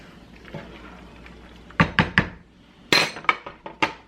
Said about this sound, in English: We're gonna give it a stir, and then we're gonna add our meatballs back in